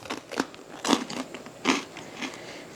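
Several crisp bites and crunches into freeze-dried wild pear pieces, four or five distinct crackly bursts spaced about half a second apart, close and fairly quiet with no talking.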